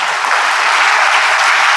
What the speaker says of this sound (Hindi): तालियां बता दो उस बच्चे के लिए भाई।